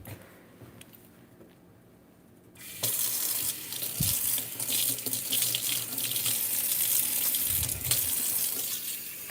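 Running tap water splashes into a kitchen sink during a rinse, starting after a quiet moment and then flowing steadily and loudly, with brief clunks of items in the basin.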